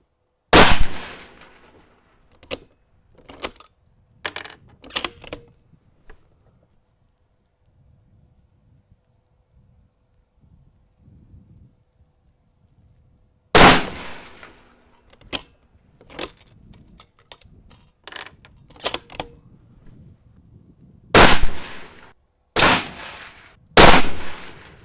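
Five sharp, loud gunshots fire at a target 30 metres away on an outdoor range, spaced several seconds apart with quiet gaps and faint handling noise between them.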